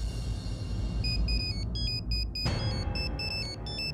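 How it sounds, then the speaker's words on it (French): An electronic phone ringtone plays a repeating pattern of bright beeping notes over a low background hum. "Mais c'est le téléphone de Bulbul."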